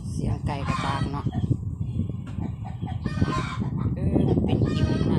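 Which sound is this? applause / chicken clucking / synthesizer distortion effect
chicken clucking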